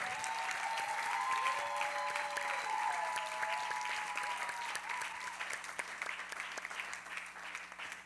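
An audience at a gospel concert applauds steadily for several seconds, a dense, even wash of clapping with a faint tonal hum beneath it.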